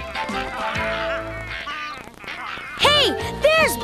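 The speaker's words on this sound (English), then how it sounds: "look at those funny little geese" Several nasal goose honks arrive in two bursts near the end, loud and close, following a stretch of music and busy background sound.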